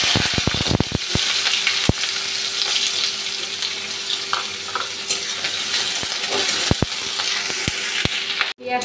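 Onion and green chili frying in hot oil for a kakrol stuffing, a steady close sizzle punctuated by repeated sharp clicks and scrapes of a utensil against the pan, with no talking.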